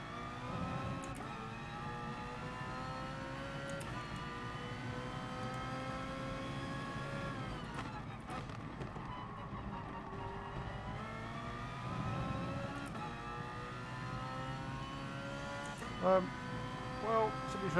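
A race car engine in Gran Turismo Sport drones steadily, pitch rising and falling with gear changes, heard alongside a voice talking.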